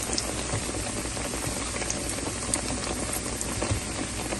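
Egg-soaked, breadcrumb-coated bread slices fry in oil over medium heat for stuffed chicken bread pockets, giving a dense, steady close sizzle and crackle without speech.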